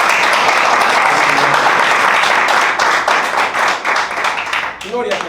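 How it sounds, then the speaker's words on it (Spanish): A church congregation breaks into loud, dense applause that holds strong for several seconds, then thins and tapers toward the end with scattered claps. "Denle un fuerte aplauso."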